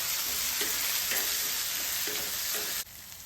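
Sliced onions and curry leaves fry in hot oil with a steady, close sizzle, broken by a few scraping stirs of a spoon before the sound drops off sharply near the end.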